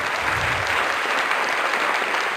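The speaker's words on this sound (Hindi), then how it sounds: "Can we clap for them?" Steady applause from a church congregation, many hands clapping together continuously without pause.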